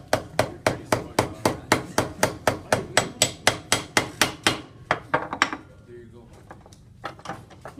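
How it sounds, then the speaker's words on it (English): A hammer taps copper sheet in a rapid steady series of sharp, ringing strikes, close by, then slows and stops as a voice begins. "Hammer it. I'm going to tap it."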